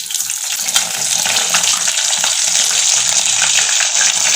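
Fish frying in hot oil gives a dense, steady crackling sizzle, loud and close, with no voices.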